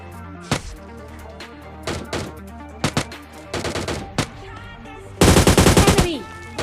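Gunfire in PUBG Mobile Lite, including an AWM sniper rifle: several sharp single shots spaced apart, then a rapid loud burst of automatic fire near the end.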